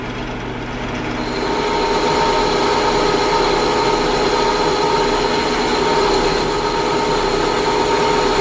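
A lathe cutting a press-in shoulder on a part: a loud, steady machine drone with a sustained cutting hum that swells after the first second and then holds evenly throughout.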